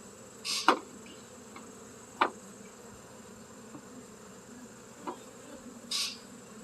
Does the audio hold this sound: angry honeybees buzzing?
yes